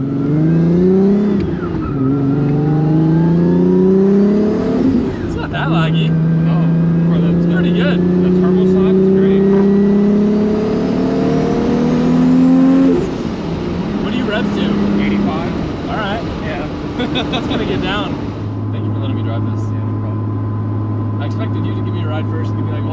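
BMW 335i with a single turbo driving and accelerating, a loud engine drone rising in pitch through the gears, then settling into a steady cruise tone with a faint voice over it.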